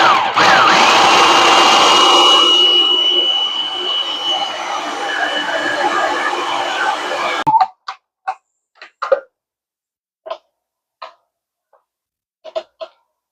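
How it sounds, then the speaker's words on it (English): A blender whirs loudly and steadily for about seven seconds, chopping homemade salsa made with fresh garden tomatoes, then cuts off, leaving a few scattered light clicks and taps. "So what I did is I blend this for 20 seconds"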